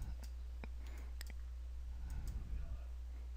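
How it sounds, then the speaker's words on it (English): Computer mouse clicking while drawing a polygon: a handful of faint, sparse clicks at irregular intervals over a steady low hum. "And just start clicking"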